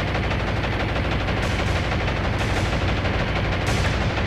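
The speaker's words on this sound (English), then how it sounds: "We want them basically just to run into an absolute wall of flak." Anti-aircraft flak fire in the naval combat game War on the Sea, a dense continuous barrage of rapid gunfire bursts, loud and unbroken throughout, with no speech.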